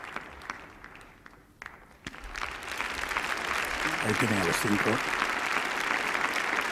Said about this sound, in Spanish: adelantándose al proscenio para recibir el aplauso de los invitados presentes en el Teatro Campo Amor de hoy